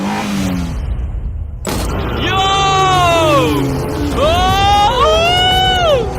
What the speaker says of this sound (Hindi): मैं एक फॉर्मूला कार चला रहा हूँ